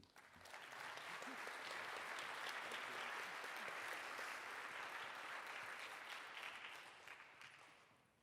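An awards ceremony audience applauds, a dense sustained wash of clapping that swells and then fades over several seconds in a large hall.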